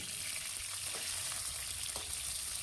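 Chopped onion and bay leaf frying in hot oil in a pan, a steady close hiss of sizzling with faint clicks of stirring throughout.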